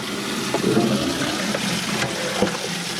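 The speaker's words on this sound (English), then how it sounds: "I'm gonna start in the water that's over here that is draining down right now." Water steadily draining from a 125-gallon koi tank, a continuous rushing, gurgling flow with faint knocks underneath and no voices.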